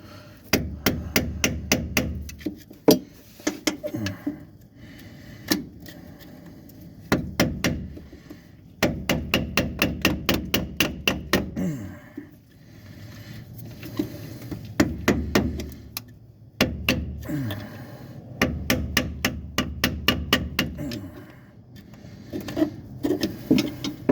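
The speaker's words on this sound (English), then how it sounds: "we only hammer on our nice snap-on screwdrivers" Rapid bursts of sharp metallic hammer strikes on a Snap-on screwdriver ring out up close while working on a 1957 Chevrolet, coming in quick repeated volleys separated by short pauses.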